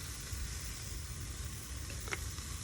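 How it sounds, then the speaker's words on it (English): Steady broadband sizzling hiss of BBQ ribs on a hot grill, continuous and fairly close, with a faint clink near the end. "You hear the sizzle?"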